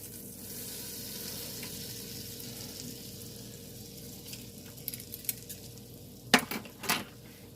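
Flour cooks in a tablespoon of sizzling butter for a roux, a soft steady frying hiss with a few sharp utensil clinks and scrapes against the pan toward the end.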